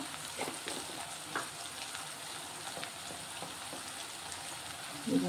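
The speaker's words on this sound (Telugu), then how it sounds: "ఉల్లిగడ్డలు ఎక్కువ ఏం ఫ్రై అవ్వాల్సిన అవసరం లేదు, కొంచెం అయితే చాలు." Onions frying in a pan for tomato rasam, a soft steady sizzle with faint crackles and occasional stirring, fairly quiet.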